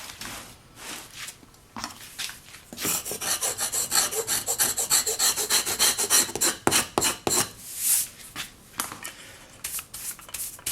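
A brush rubbed over an old book during rebinding, heard as close, dry rasping strokes in quick rhythmic bursts that swell through the middle and trail off into a few separate scrubs.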